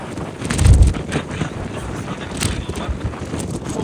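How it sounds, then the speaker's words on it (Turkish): Strong wind buffets the microphone with loud low rumbling bursts, a heavy gust early on, followed by continuous blustery noise. "Ya rüzgar var burada ya."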